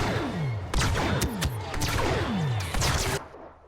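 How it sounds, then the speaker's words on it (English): Rapid blaster fire and explosions from the Star Wars Battlefront 2 video game, a dense volley of sharp zapping shots with descending sweeps and booms, loud and close, ending abruptly. "when you aim down, it shoots an explosion"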